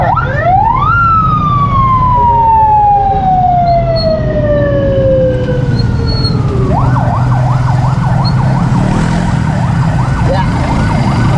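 An ambulance siren wails loudly in heavy traffic outside a shopping mall, sweeping tones gliding down then shifting into a rapid yelp, steady over the rumble of engines and road noise.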